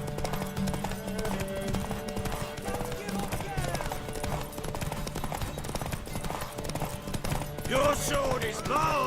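Horse hooves clip-clop in The Witcher 3: Wild Hunt, a steady rhythmic patter mixed under game music, ambient effects and character dialogue, with a brief whinny-like cry near the end.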